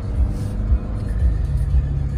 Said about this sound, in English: Let's take that back up the hill, and let's put it in four-wheel low.